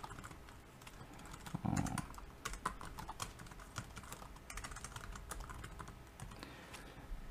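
Keys on a computer keyboard tapped steadily while someone works in a text editor, a continuous run of close, crisp clicks with a brief louder burst near the start.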